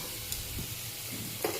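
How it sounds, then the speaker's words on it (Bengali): Fish fat fries with onion and green chilli in a pan with no added oil, making a quiet, soft sizzle with a few light stirring scrapes. No one speaks. "মাছের তেলটা ভাজবো একদম।"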